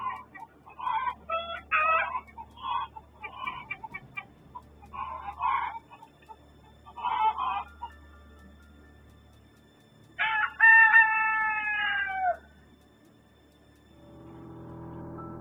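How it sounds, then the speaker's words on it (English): Close rooster crowing and clucking in a quiet outdoor spot, the clucks coming in short bursts and a long cock-a-doodle-doo ringing out near the end, with other birds faint in the background. "Listen to the birds in the background before and while the figure appears."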